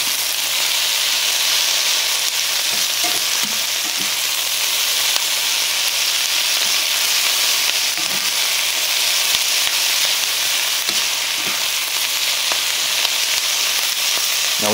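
Garlic fries in plenty of oil for vegetarian fajitas: an even, dense sizzle close by, with occasional soft knocks from stirring and a low steady hum under it.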